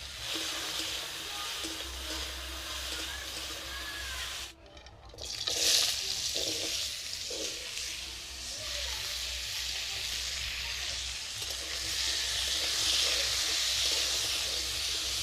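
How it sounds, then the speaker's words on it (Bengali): Eggplant fries in mustard oil in a kadai, producing a steady, hissy sizzle at moderate level with a brief dip and a louder spattering burst partway through. "কড়ার মধ্যে দিয়ে দিব কিছুটা সরষের তেল প্রথমে আমি বেগুনগুলো ভেজে নেব"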